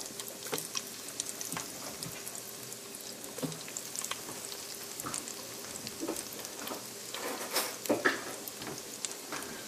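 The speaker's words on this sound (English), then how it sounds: "just tossing the cheese balls into the deep fat fryer." Cheese balls fry in a deep fat fryer, a steady hiss of bubbling oil broken by scattered crackles and pops throughout, fairly quiet and close.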